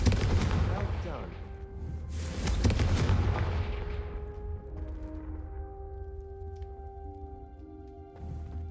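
The Confringo explosive spell cast in Hogwarts Legacy, two heavy booming blasts early on that roll off into a long fading rumble, followed by quieter game ambience with a soft tonal hum, no voices.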